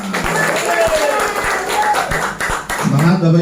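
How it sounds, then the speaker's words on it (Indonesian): Audience clapping at a public speaking workshop in Balikpapan, a steady wash of applause for a few seconds with a voice starting up near the end. "Tepuk tangan lagi untuk kita semua."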